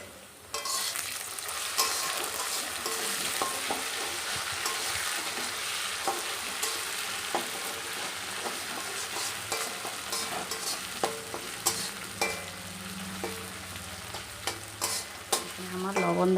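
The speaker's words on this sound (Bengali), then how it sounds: "পেঁয়াজ আর আলু ভাজা ভাজা করে নিচ্ছি।" Onions and potatoes frying in a pan, a steady close sizzle with occasional stirring scrapes and clinks, continuous throughout with no talking.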